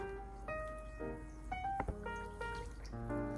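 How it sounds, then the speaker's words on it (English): A spoon stirs sugar into warm water to make homemade hummingbird nectar, giving a close series of ringing clinks against the container over a faint swirl of liquid, in an irregular rhythm of about half a dozen strikes. "thoroughly stir it until you don't see the particles anymore"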